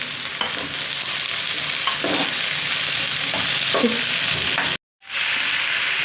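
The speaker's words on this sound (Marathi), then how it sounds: "टोमॅटो छान नरम होईपर्यंत परतायचं." Tomatoes fry with onions and green chillies in a pan for a village-style brinjal bharit. A loud, continuous sizzle carries intermittent stirring scrapes, and the sound cuts out briefly near the end.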